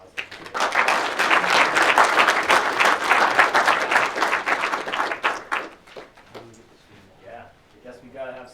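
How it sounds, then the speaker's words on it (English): Seminar audience applauding a guest introduction, a dense sustained round of clapping that swells, then thins out and fades as a voice begins talking over the end. "if we could just introduce him with a round of applause"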